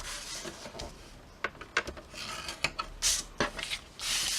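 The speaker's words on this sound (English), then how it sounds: "you'll score at 1 inch on 3 sides: the left, the right, and the bottom," A scoring board tool scores paper lines at 1 inch on three sides of a sheet while making a crow Halloween treat bag, giving repeated close scraping, rasping strokes in short bursts, with no talking.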